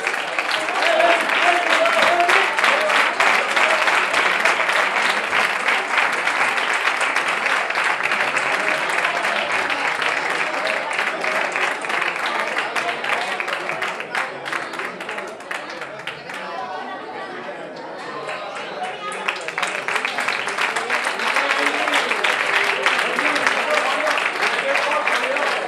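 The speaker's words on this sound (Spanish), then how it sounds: "Un fuerte aplauso para ellos." Sustained applause and crowd chatter at a cycling race trophy ceremony outdoors, continuous clapping that briefly thins in the middle before swelling again, with voices mixed in throughout.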